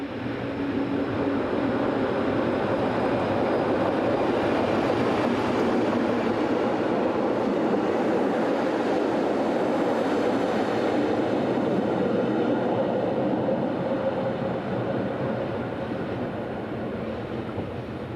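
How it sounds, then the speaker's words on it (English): Locomotive number 609 pulling into a station on the Filisur–Davos line, a steady loud rumble of rolling wheels and engine lasting throughout, easing slightly toward the end. "Here, locomotive number 609 arrives with the 10:04 service from Filesur to Davos"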